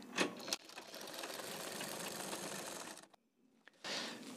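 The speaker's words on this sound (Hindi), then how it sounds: "ऐसे सिलाई करते चले जाएंगे।" An electric sewing machine stitches kurti back-neck fabric with a steady, close, buzzing run for about three seconds, stops briefly, then starts again.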